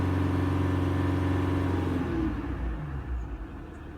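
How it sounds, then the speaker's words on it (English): A 2018 Jeep Grand Cherokee with a crankshaft position sensor fault accelerates, its engine droning loud and steady from inside the vehicle before the tone shifts and eases off in the last couple of seconds. "So let me accelerate"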